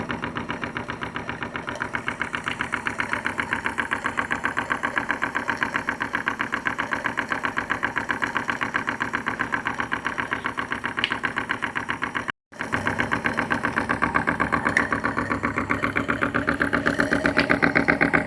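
A PM Research No 3 steam engine fed by a Roundhouse boiler runs steadily at close range, giving a fast, even mechanical chuffing beat with a brief break partway through and no talk.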